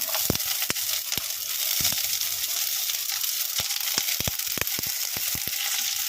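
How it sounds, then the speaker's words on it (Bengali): Chopped vegetables sautéed lightly in a little ghee sizzle steadily in a pan, with sharp clicks and scrapes of stirring scattered throughout, close and even, no voices. "সামান্য ঘি দিয়ে এই যে আমার সবজিগুলো কেটে রেখেছি এইগুলোকে হালকা একদম ক্রাঞ্চি রেখে সটে করে নেব"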